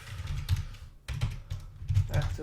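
Fast bursts of typing on a computer keyboard while writing code, clustered key clicks in quick runs with brief pauses, close and fairly quiet, with a voice speaking faintly in between.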